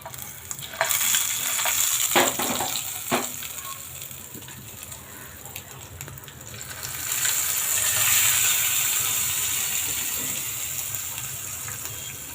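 Hot tempering for medu vada is poured onto chutney and sizzles in a frying crackle. A few sharp clinks of utensils cut through early on, and the sizzle swells again partway through.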